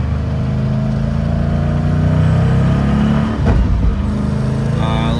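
A car nicknamed Frankenstein revs loud and steady close by, with a brief dip at a gear shift before the engine pulls again on a rising note.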